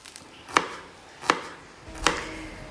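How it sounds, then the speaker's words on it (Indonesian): Shallots and chilies sliced with a knife on a cutting board at home: three sharp, evenly spaced chops close by, over a faint kitchen background with no talk. "ini Mama lanjut iris-iris ya bawang sama cabenya buat orek tempe"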